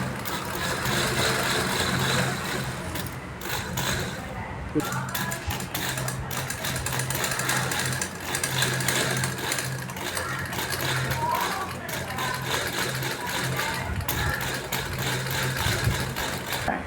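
A sewing machine stitches fabric with elastic thread, giving a steady, continuous mechanical whir with a low running hum that holds close and fairly loud throughout.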